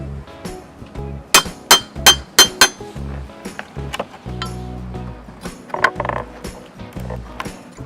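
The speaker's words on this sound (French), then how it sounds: "En s'aidant d'une baramine et d'un marteau" A crowbar and hammer prying formwork off a freshly cast concrete pillar: a quick run of loud metallic clanks and knocks, then scattered scraping, creaking and lighter taps of wood and nails, close by.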